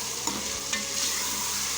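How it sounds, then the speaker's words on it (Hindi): Tomatoes hit hot oil with fried onion and ginger garlic paste for dhaba-style masala bhindi, giving a close, continuous sizzle with two sharp stirring scrapes. "अब हमने इसके अंदर डाल दिया टमाटर"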